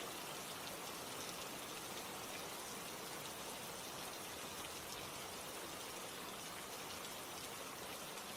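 Steady rain falls continuously, a dense even hiss of drops on surfaces that stays constant and moderately loud throughout, with no voices or other sounds.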